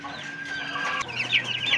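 Chickens on a game farm cluck and squawk close by, a continuous busy chorus of overlapping calls that rises toward the end, with no talking.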